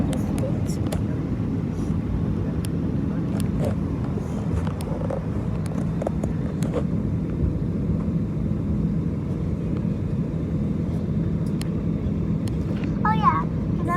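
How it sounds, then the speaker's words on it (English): Airplane flying far off, heard as a steady, faint, low drone under wind and outdoor noise, with voices murmuring now and then. "Look at that plane in the distance."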